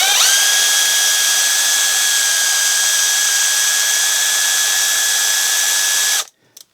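A Vessel ball grip ratcheting combo bit holder spins steadily on a test rig, giving a loud, continuous high-pitched whine with no one speaking, and it cuts off abruptly near the end.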